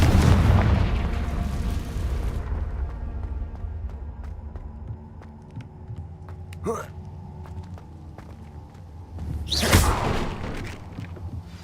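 A Confringo fire spell in Hogwarts Legacy goes off as a heavy booming blast that opens loud and decays over a couple of seconds, with sharp whooshing bursts following later over quieter game ambience.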